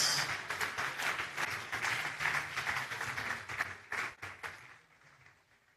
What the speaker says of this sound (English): Can you please clap for Jesus?